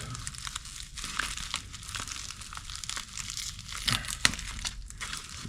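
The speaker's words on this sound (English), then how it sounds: "I'll peel this tape." Tape peeled off during installation of soffit vents and bathroom fans, a close, continuous crinkly tearing and crackling lasting several seconds with a few sharper snaps toward the end.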